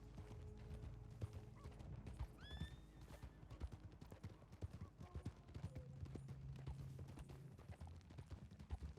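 Hooves clip-clop steadily on a Red Dead Redemption 2 roleplay server, with a horse's whinny, faint mechanical clicks and low voices underneath, all quiet and close.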